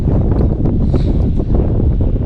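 Strong mountain wind near high alpine lakes, a loud continuous roar buffeting the microphone with gusty swells and no talking.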